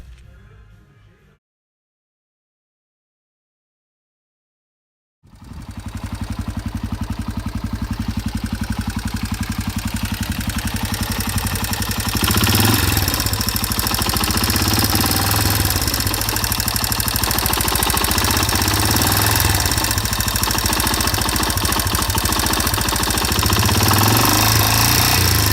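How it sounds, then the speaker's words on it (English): A 1985 Yamaha BW200 engine idles loudly and steadily close by, with a clicking, knocking undertone and an uneven, wavering idle that grows a little rougher partway through. "The engine used to click a lot. The idle wasn't consistent."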